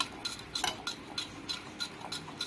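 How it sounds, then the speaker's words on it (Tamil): A spoon stirs cake batter with vanilla essence in a bowl for a homemade cake, giving a steady series of light clinks and taps at a regular rhythm, close and fairly quiet, with no talking. "நல்லா மிக்ஸ் பண்ணிக்கோங்க."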